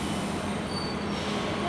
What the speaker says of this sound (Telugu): పోతాంది ట్రైన్